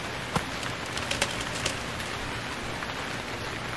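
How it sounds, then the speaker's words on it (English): Steady rain pours in the survival game Stranded Deep, a dense, even hiss of falling water with a few louder drop taps, continuous and fairly loud, with no talking. "This is gross. Hate rain."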